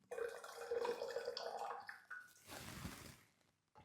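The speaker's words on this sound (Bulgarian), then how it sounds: "Тук даже мога да сложа повече вода." Water poured from a kettle into a cup of green tea, a steady splashing pour with a bright trickling character that fades, followed by a softer second pour trailing off near the end.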